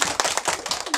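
Children clap their hands at a New Year party, a quick patter of overlapping claps over a single second, fairly close and moderately loud.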